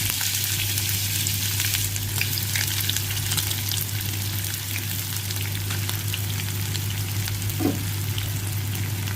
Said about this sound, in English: time to fry some onions